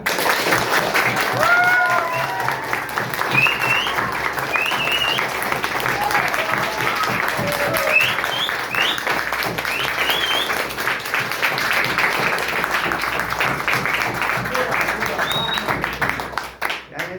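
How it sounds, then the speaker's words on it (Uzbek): Sustained applause from about thirty schoolchildren in a classroom, steady and loud for the whole stretch, with a few voices rising over the dense clapping. "mana shu qarsaklar sizga"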